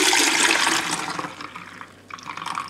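Green juice with added water, made in a Kuvings Whole Slow Juicer B6000, drains through a sieve with a loud, splashing liquid rush that gradually thins to quieter trickling and dripping.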